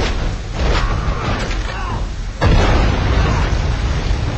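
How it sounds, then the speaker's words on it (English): Deep, booming explosions from the video game SpyHunter Nowhere To Run roll through a dense wall of game noise, with a sharper, heavier blast striking midway and rumbling on afterward. "Too many explosions."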